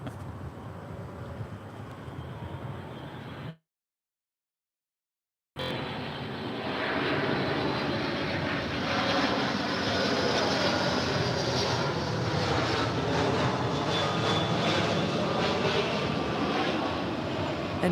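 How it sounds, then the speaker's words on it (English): A Delta Airlines Boeing 757-200 airliner arriving at LAX from Atlanta produces a broad, rising jet engine roar that swells and holds loudly after a brief gap of silence, with no talk over it. "here we're tracking Delta Airlines 2846 coming in from Atlanta on a 757-200"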